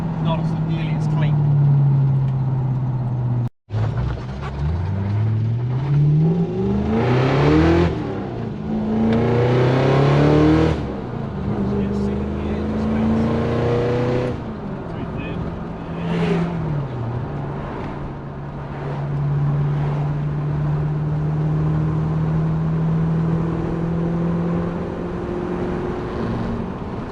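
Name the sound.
Mazda B2000 ute engine driving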